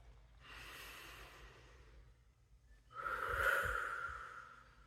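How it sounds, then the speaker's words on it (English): One deep breath taken slowly: a long airy inhale followed after a pause by a fuller, louder exhale through the nose and mouth, close and alone in a quiet room. "let's take just one deep breath together"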